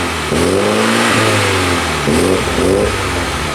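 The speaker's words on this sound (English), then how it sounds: "And revving it a bit, it does sound really nice." A 2020 Mini John Cooper Works GP engine revs up twice from idle, each blip rising sharply and falling back, loud and close with no talking.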